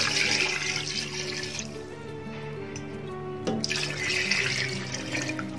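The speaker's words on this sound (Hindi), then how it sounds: "इसमें हमने पानी डालना है तकरीबन" About one and a half litres of water being poured into a cooking pot for Afghani Kabuli pulao: a steady, close rushing splash that eases off midway, then surges again before tapering, with no talking.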